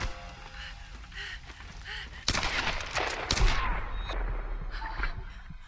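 Gunfire rings out in Tomb Raider while shooting at an enemy: a few light shots first, then a sudden loud burst of rapid fire and a blast rumble, with people talking underneath.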